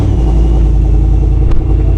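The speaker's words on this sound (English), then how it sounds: "You can hear the supercharger." A supercharged Toyota GR Corolla running on E54 fuel, tuned to about 816 horsepower, revs loudly up close with a deep, steady engine roar that holds throughout and sharpens briefly near the end.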